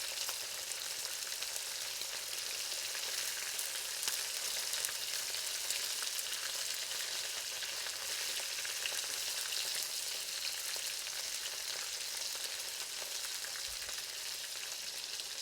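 Shrimp frying in a very hot wok for a summer chili shrimp dish, a steady dense sizzle that holds evenly throughout, close and fairly loud with no talking.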